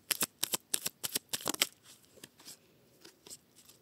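Tarot cards being shuffled in a quick series of crisp riffles and flicks, close and fairly quiet, trailing off into softer handling.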